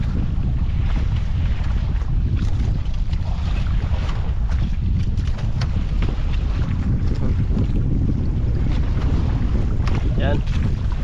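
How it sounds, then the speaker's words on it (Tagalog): Strong wind gusts over a small fishing boat drifting at sea, a loud constant roar of buffeting microphone noise with water sloshing beneath, voices faintly present. "Pinapadpad kami ng malakas ng hangin mga idol"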